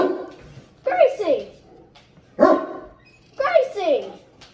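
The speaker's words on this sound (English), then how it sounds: "our dog's barking. She's a Great Dane" A Great Dane barks indoors in three deep, loud bursts spaced about a second apart, close by, with short pauses of room quiet between them.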